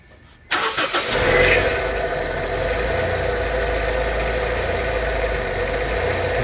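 A 1998 Honda CR-V with newly fitted belts, including the A/C belt, starts after a brief crank and settles into a loud, slightly rough idle heard close up.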